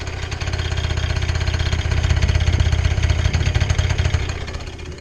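A Peugeot Speedfight 3 50cc two-stroke scooter engine runs loud and close, its buzzing drone rising in revs and holding steady without a pause.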